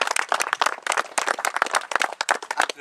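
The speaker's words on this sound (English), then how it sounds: "Give them a round of applause." An audience claps at the prize-giving for the Meath matchplay senior and intermediate finals, a dense burst of close, loud applause that stays steady throughout.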